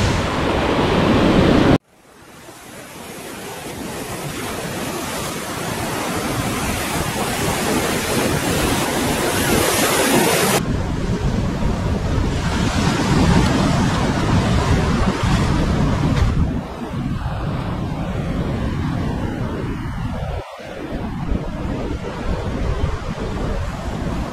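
Sea waves roll and break steadily on the shore at a Vizag beach, a loud continuous wash with wind buffeting the microphone and no voices.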